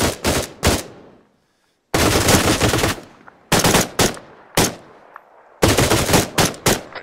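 Arma 3 gunfire rings out close and loud in several sharp bursts of rapid shots, separated by short silent gaps.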